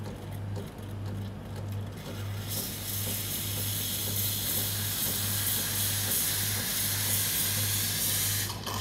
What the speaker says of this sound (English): I turn on the steam arm and you'll see it's going to build up in terms of steam pressure